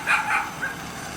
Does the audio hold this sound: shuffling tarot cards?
no